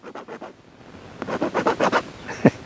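Graphite pencil scratching on paper with poor drawing technique: a few quick strokes, a pause, then a run of rapid, rhythmic scrapes ending in a sharper stroke, close up with no voices.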